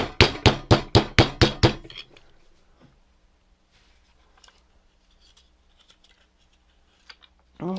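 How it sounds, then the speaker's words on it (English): A hammer strikes metal held against a bigger hammer serving as an anvil while refurbishing a skateboard robot: seven loud, sharp, evenly spaced clanks, then near silence with small handling noises and one more knock at the end. "Just use this bigger hammer as an anvil."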